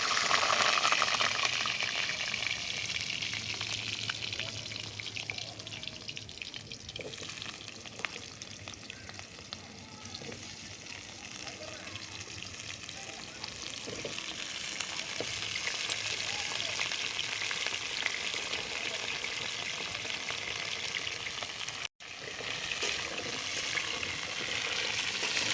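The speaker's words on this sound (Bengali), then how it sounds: "এবার আমি তেলের মধ্যে আলুগুলো দিয়ে দিচ্ছি।" Potato pieces frying steadily in hot mustard oil in a heated kadai, a dense continuous sizzle and crackle that holds close and loud for the whole stretch, with faint stirring scrapes and a brief dropout near the end.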